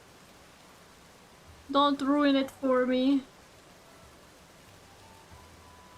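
Steady, soft rain falls in a Zelda video game, a constant even hiss throughout, briefly under a person speaking.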